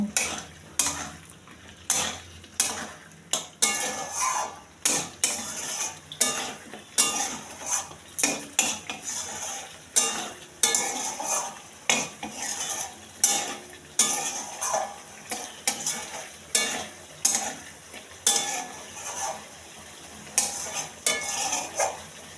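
Chicken pieces being stirred and fried in hot oil in a pan for palak chicken: repeated clanking spatula strokes against the pan in an uneven rhythm over a continuous sizzle.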